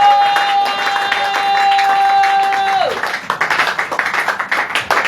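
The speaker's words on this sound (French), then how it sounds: "Acclamons plus fort pour la gloire du Seigneur." A church congregation applauds during a worship service. A steady sustained tone fades out, then dense, rhythmic group clapping fills the second half.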